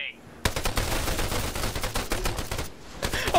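Rapid video game gunfire erupts as a door opens and a teammate is shot, a loud, dense burst of automatic shots that runs for about two seconds before easing, with voices faintly underneath.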